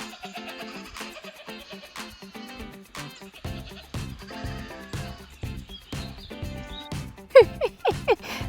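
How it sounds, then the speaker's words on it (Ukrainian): Goats on a mountain trail in Akamas, Cyprus, bleat in short, scattered calls over quiet rustling, growing louder and more frequent near the end. "Вони просто бекають, бекають і бекають."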